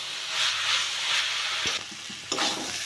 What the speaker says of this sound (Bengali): মোচাটা ভাজা ভাজা মতো করবো